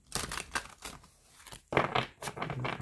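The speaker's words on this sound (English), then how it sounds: "these cards have been shuffling so awesome lately." Oracle cards from a rebel deck are shuffled by hand in quick papery bursts, a brief pause between rustling riffles, close and fairly clear.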